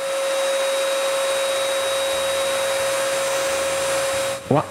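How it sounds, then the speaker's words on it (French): Spray gun with a 1.5 mm tip spraying water-based tinted varnish onto a wood test piece, a steady loud continuous hiss with a fixed whine running throughout, stopping abruptly near the end. "je vaporise le vernis teint juste à côté de notre premier test"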